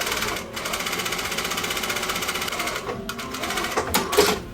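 A sewing machine stitches over folded-down ribbon on Darcy bloomers, its rapid, even needle chatter running continuously up close with a brief pause or two.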